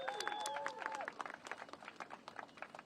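A rally crowd for immigrant rights in Albany claps in a scattered, fairly faint way, with whistles and shouting voices over the irregular hand claps.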